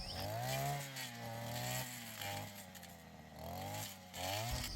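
Petrol brush cutter fitted with a triple-blade attachment cutting small shrubs on a farm, engine buzzing continuously with repeated rises and dips in pitch as it bites into growth, fairly close.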